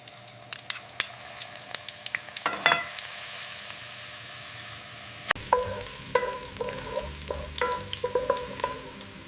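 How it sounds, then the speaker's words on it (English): Garlic sizzles in cooking oil over medium heat in a soup pot, a steady close crackle broken by sharp clinks and scrapes of a utensil stirring against the pot. "Frying the garlic until fragrant."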